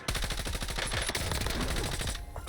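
Rapid automatic gunfire from a Kimbo weapon in the Warzone video game rattles out in a dense, loud, fast burst. It cuts off near the end, and no one talks over it.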